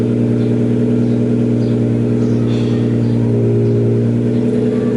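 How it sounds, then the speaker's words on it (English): A Nissan Skyline engine idles steadily at close range in a garage, a loud, boomy low hum that fills the enclosed space without pause. "You don't realise how loud that car is until I'm actually in this corner."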